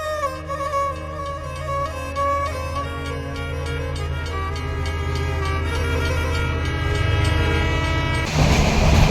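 A train travelling from Chalala to Junagadh rumbles steadily along with a continuous mechanical drone and rattling, building slightly louder toward the end.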